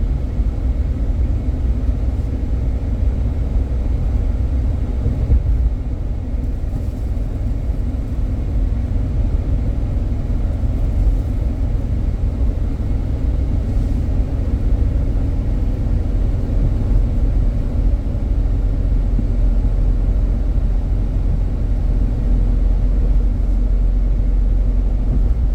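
A 2015 Ram 1500 with a 5.7 engine climbing a hill, heard from the cabin as a steady, heavy low drone and road rumble, loud and unbroken for the whole stretch without speech.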